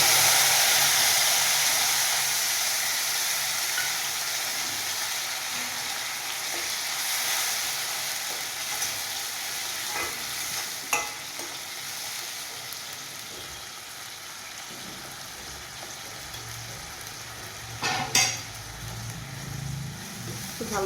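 Ginger, green chilli and garlic paste frying in a pan for Bengali fish curry, a soft continuous hiss that fades slightly, with occasional stirring scrapes and a louder clatter near the end.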